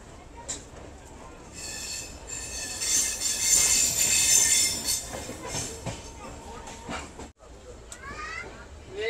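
The Udaipur-Yog Nagari Rishikesh Express rolls along with a loud rumbling rattle and high metallic wheel squeal that swells and fades, heard up close from aboard, with people talking over it.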